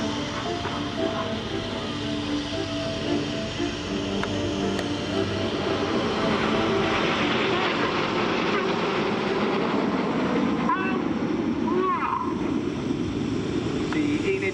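RAF Red Arrows jets roar through a flying display at the Sanicole air show, a loud, sustained engine rush that swells and shifts across the sky, with an announcer talking over it.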